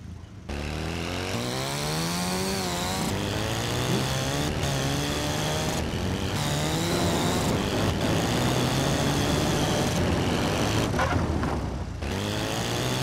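The FC-900 motorcycle from GTA San Andreas, with a remastered sound pack, revs loud and close, its engine note climbing through repeated gear changes in a continuous roar.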